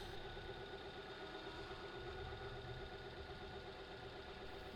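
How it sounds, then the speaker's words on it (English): A Hyundai Elantra engine idles steadily after an oil change, a constant close-range mechanical hum with a faint knocking texture and even vibration, with no voices. "start the engine, let it run for about a minute"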